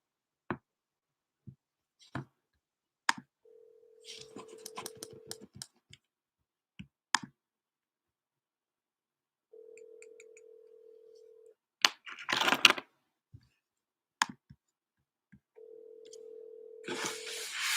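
Phone buttons click through a dial sequence on an outgoing call, then a steady ringback tone repeats three times, alone and fairly close, with scattered handling clicks and brief rustling between rings.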